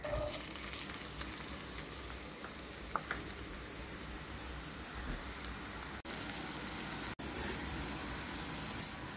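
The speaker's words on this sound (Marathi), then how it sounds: "आता याच तेलात आपण टाकणार आहे कांदे" Chopped onions frying in hot oil left over from frying beans, a soft continuous sizzle and crackle at low level, with a couple of brief clicks and no talking.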